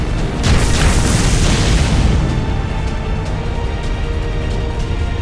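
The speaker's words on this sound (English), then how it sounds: "Explosion of soil, a veritable upheaval of the ground." A huge explosion of soil and heaving ground in a visual novel game, one deep sustained rumbling blast that swells loud at first, then settles into a long, dense crumbling roar with debris clatter.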